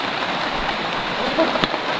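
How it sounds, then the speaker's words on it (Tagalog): Steady rain hisses throughout, a dense even patter with one brief sharper knock near the end. "Ulan ba? Ulan."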